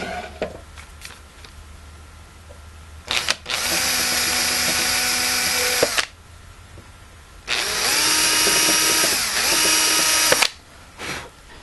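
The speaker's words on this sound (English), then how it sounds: "I'm just going to drill in a little bit just to mark my location of my holes." A power drill with a self-centering bit bores shallow marks for screw holes on a half mortise lock, two separate whining bursts a few seconds each, close and loud, with quiet handling between them.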